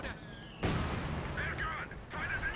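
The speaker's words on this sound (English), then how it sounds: "There's some mortar strikes coming on in." Mortar strikes land in Company of Heroes 2 during a 4v4 match on Essen Steelworks: a sudden loud blast followed by rumbling battle noise and scattered explosions, with a voice talking over it.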